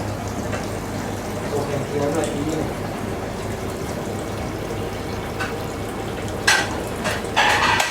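Big-head mushrooms stir-fried with plenty of curry paste sizzle steadily in a pan, with soft scraping of the stirring and a couple of sharper hissing bursts near the end.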